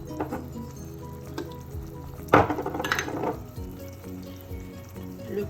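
Ground spices, cumin among them, tipped into a hot pan of garlic for bulgur, giving a sudden burst of sizzling and pan clatter midway that fades into a steady low fry.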